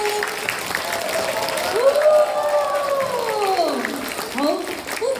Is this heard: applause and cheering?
yes